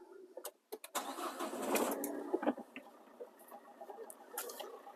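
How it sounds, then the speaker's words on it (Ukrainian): A few clicks, then a diesel engine, a 1.5 dCi or 1.6 TDI, cranks and catches, settling into a steady idle hum nearby. "Так, запустимо наш автомобіль."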